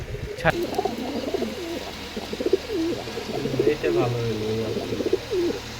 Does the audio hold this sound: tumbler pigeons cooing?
yes